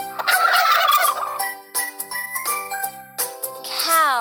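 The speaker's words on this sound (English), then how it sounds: "Turkey." A cartoon turkey gobbles in a kids' animal puzzle game, a loud warbling call answered by short gobbles, with bright jingly chimes and a rising trilled effect closing it out.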